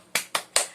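Three crisp, evenly spaced claps, close and fairly loud, from an audience of mothers and fathers at a training session doing the tepuk semangat clapping routine, with no talk between them.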